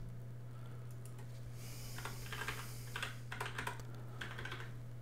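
Computer keyboard typing while entering details to register a new user, clusters of quick, close key clicks in short bursts over a steady low electrical hum, no talking.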